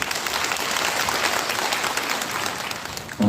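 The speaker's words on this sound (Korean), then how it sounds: "좋은 말씀 해주신 신재돈 당협위원장님께 큰 박수 한번 부탁드리겠습니다" At a senior jobs training event at the Dong-gu community center in Incheon, the gathered audience gives a big round of applause for Shin Jae-don, the local party committee chairman, a steady burst of clapping lasting about three seconds before a sharp louder sound at the end.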